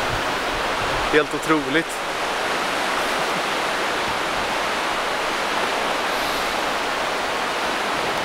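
A waterfall in green, mountainous Kurdistan pours continuously as a loud, close, even roar of rushing water, with a short spoken remark early on.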